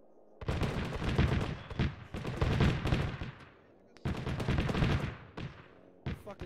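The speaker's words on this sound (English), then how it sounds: "It's an anti-air cannon." Anti-air cannon fire in a military video game, loud rapid bursts of heavy automatic shots in several long volleys separated by short pauses, with no talking.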